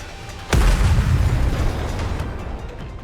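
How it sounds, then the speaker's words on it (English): A sudden loud boom from missiles firing wildly and exploding in the Nikke x Stellar Blade video game, a sharp blast that rolls into a long rumbling decay. "The missiles have no homing ability. It's just firing wildly!"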